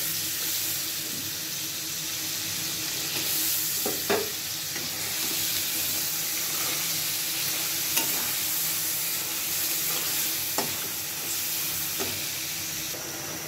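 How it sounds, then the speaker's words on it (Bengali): Fish belly pieces sizzle as they fry in a spice paste of chilli, turmeric, coriander, cumin, onion and garlic. The hiss is continuous and moderate, with occasional clinks of a spoon stirring the pan, and there is no speech. "মাছটি আমি কষায় লইলাম।"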